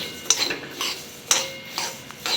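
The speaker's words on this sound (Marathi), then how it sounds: "आपण आता त्या गरम कढईमध्ये धणे टाकून घेऊ" Coriander seeds are stirred in a hot, dry pan, with a few sharp metallic scrapes and clinks of a spoon against the metal about once a second over faint rustling; no talking.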